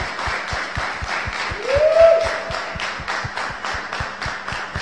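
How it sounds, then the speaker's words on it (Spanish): Audience applause on a live rock radio program, a broad steady patter of clapping with regular low rhythmic thumps running beneath it throughout. "un aplauso hasta el cielo para nuestro coordinador Anthony."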